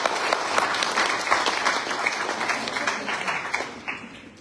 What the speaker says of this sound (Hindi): यहां पर मैं अपने हार्ड कोर लीडर के लिए जोरदार आपसे तालियां चाहता हूं।